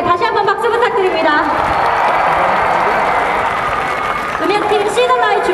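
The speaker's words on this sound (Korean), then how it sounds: "다시 한번 박수 부탁드립니다" A concert audience at a youth day show applauds and cheers for a performing group, dense clapping and crowd noise throughout, with amplified voices and tonal vocal sounds rising above it at the start and end.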